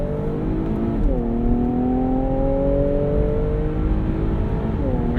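A 2022 Infiniti Q60 accelerates hard, its engine note climbing steadily through the revs with a quick shift dip before rising again, loud and close from inside the cabin.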